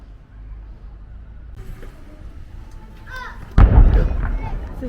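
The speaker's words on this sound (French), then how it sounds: "en direct des explosions, ils font péter des rochers qui menacent de s'effondrer" A sharp blast bursts out partway through, a deep booming explosion as unstable rocks above a road near a troglodyte village are blown apart, its rumble trailing off; quieter background noise and faint chatter come before it.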